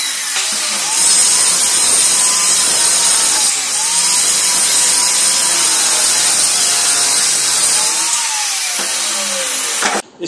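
Power saw cutting wood pieces for a 6 by 4 foot folding diwan bed, a loud, continuous close cut with a brief dip near the start and a break before stopping.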